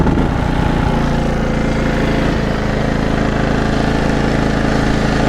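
A gas generator engine runs at a steady idle, close and loud, with a constant low throbbing drone and mechanical rattle that holds unchanged throughout.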